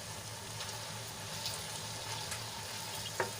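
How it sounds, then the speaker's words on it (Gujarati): Okra with masala mixed in, cooking in a pan over a low flame: a faint, even frying sizzle with soft stirring movements and a single light clink near the end, and no talking. "મસાલો સરસ રીતે ભીંડામાં આપણે મિક્સ કરી લઈશું"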